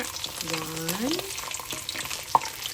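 Snapper seasoned with salt, pepper and cornstarch frying in a big wok, a steady close sizzle running throughout beneath a brief tonal whine and a single sharp click near the end.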